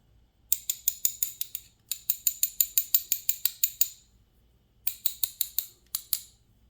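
Picking and prying springs out of a disassembled Abus D6 lock makes three bursts of rapid, crisp metallic clicks, a dozen or so sharp ticks each, close up with no talking.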